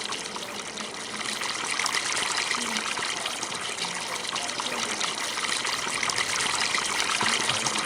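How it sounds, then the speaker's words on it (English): A fountain in a video game trickles steadily, a continuous bright splashing and dribbling wash of water at moderate level with no talking. "Here's our fountain."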